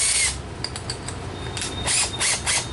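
Reaming out a bolt hole on a bridge build, with short whirring bursts from a power tool, close and moderately loud, separated by brief pauses.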